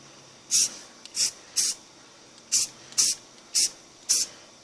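Short bursts from a spray paint can coating a rifle, seven sharp hissing puffs at a fairly even pace, each about a quarter second long, close by against a quiet background.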